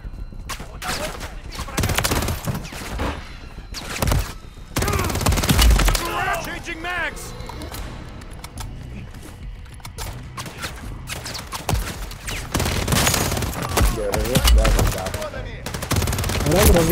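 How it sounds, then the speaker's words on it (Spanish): Bursts of automatic gunfire and single shots in Call of Duty MW3 Zombies, loud and close, coming in irregular volleys with pauses, while a player speaks over the shooting. "Alguien me está disparando."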